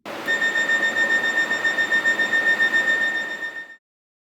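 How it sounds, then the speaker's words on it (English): An aircraft cockpit door emergency buzzer sounds as a loud, steady, continuous electronic tone with a slight pulsing flutter, then cuts off abruptly near the end, with nothing else heard. "causing the buzzer to sound continuously for a preset time of 15 to 120 seconds"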